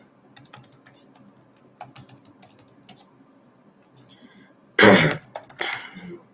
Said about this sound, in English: Okay, this is just typing.